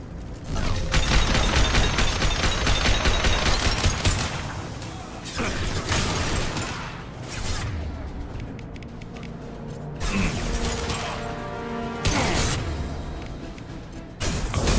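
Blue Suns mercenaries and Vorcha in Mass Effect 2 open fire: sustained, loud bursts of gunfire with booming impacts, continuing in waves with brief lulls across the fight.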